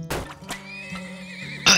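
A horse pulling a wagon in the oil-drilling video game Turmoil gives a short whinny, with light thunks and clip-clop-like knocks around it and a brighter burst near the end.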